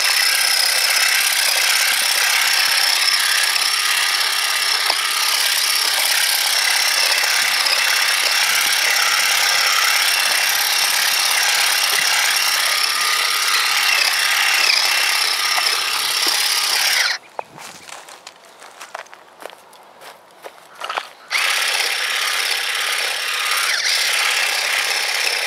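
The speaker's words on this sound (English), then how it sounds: "It's just a little clipper, rechargeable, and works pretty easily." Rechargeable handheld clipper cutting garden weeds in a wood-chip bed, a steady close buzzing and rasping that runs almost continuously, broken briefly by a short pause before the cutting resumes.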